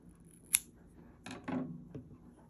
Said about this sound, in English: And to finish, you can just simply chain 1 and then cut the yarn off.